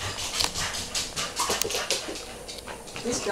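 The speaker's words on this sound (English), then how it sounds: "This dog comes and I called it." A dog whimpers and pants in short, uneven bursts of breathy whines, close by, for a few seconds.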